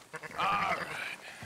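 A single wavering sheep bleat in the video game Red Dead Redemption 2, fairly close and clear, lasting under a second over a quiet outdoor background, with soft footsteps or rustling around it.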